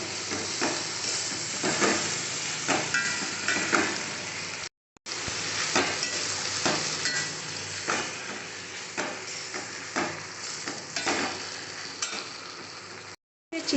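Mung dal frying in a pan with spices, a continuous sizzle broken by scraping stirring strokes, cut by two short silent gaps.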